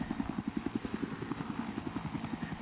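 Helicopter in the video game Battlefield 3, rapid rotor thumps beating at a steady pulse, moderately quiet and continuous throughout.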